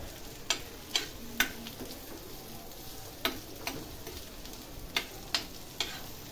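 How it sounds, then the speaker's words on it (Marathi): Chopped onion fries in oil on a tava for a raw jackfruit sabzi, giving a quiet, steady sizzle broken by light, scattered clicks from stirring. "इथं मी पूर्ण कांदा जेवढा चिरून घेतलाय तो तेलावर टाकते।"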